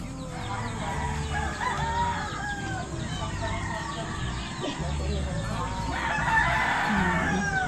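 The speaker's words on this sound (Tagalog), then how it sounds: "So ang maririnig mo dito ngayon yung mga manok mga maninay na nagsisigawan," Several roosters crow while hens cluck continuously around them, a busy, loud farmyard chorus with voices talking faintly underneath.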